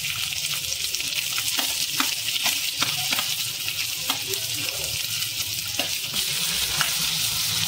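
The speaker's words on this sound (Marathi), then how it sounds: "बेसवरती थोडं तेल घातलंय मी। इथे मी कांदा घालते।" Onion frying in oil over a high flame, a constant loud sizzle with occasional stirring clicks and pops, close up and without speech.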